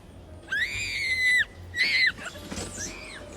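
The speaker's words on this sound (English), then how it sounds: "She's screaming." A woman screams in several high, sustained bursts as she rides down a mountain coaster at Copper Mountain ski area, with two long wails and a shorter one following, heard from nearby over faint background noise.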